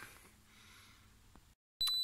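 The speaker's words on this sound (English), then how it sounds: "Excuse the loud beeping noise, which is annoying" A multimeter in continuity mode gives a short, sharp electronic beep near the end after quiet handling sounds and a moment of silence, heard while testing dashcam wiring fuses in a Polestar 2.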